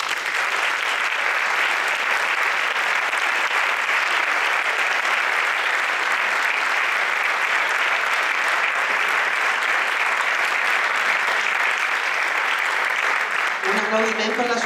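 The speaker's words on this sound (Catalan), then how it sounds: "us demanaria un fort aplaudiment per la Maria." Sustained audience applause at a charity concert in Cornellà, a dense steady wash of clapping from a large crowd that continues unbroken for the whole stretch, with a faint tonal note creeping in near the end.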